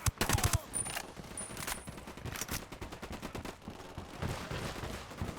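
Rapid automatic gunfire in the Ghost Recon Wildlands video game, long bursts of repeated shots with a few heavier reports, dense and continuous throughout.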